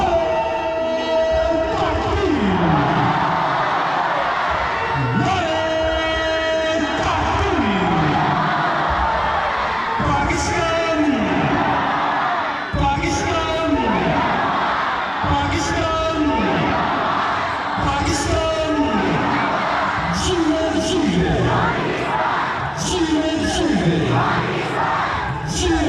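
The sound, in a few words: crowd chanting slogans at Wagah border ceremony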